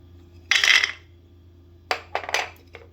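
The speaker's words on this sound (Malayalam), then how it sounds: "ക്യാഷ് ഇടാം" Cashew nuts drop into a blender jar for an apple smoothie: one loud rattling pour, then a few quicker, lighter clattering bursts close by, with no talking.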